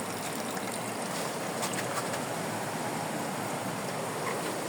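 Drainage water rushes and gurgles steadily as it is pumped, a continuous close flow with no pauses and no voices.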